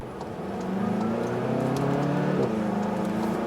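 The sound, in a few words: Volkswagen Golf GTI Mk7 turbo kicking in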